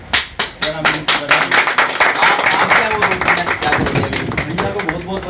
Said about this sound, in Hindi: कभी यहाँ पर ताली हो जाए